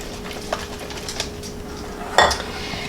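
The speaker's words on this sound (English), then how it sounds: "And then we're just going to whisk all that together." A whisk beats pumpkin puree and wet ingredients in a bowl, making light, quick metallic clicks and taps that end in a louder clatter against the bowl near the close, up close at moderate level with no voices.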